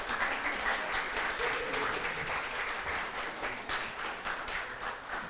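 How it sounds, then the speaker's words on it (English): Congregation applauding a church choir during a Sunday service, steady moderately distant clapping that continues evenly throughout. "let's give the choir another round of applause"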